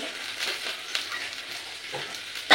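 Onion with panch phoron fries in a pan, a short close burst of hissing sizzle with a few stirring scrapes, ending in a sharp louder clatter.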